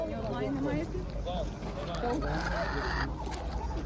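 Chickens cluck amid a busy, noisy animal market crowd, with people talking over the birds throughout.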